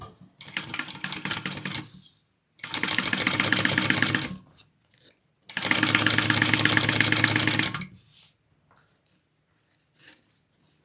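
A sewing machine runs three steady bursts of fast, even stitching along a fabric wallet seam, each lasting a couple of seconds, with short quiet gaps and small handling noises between them, close and with no talk.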